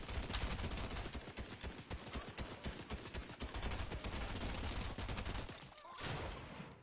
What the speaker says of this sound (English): we're being sniped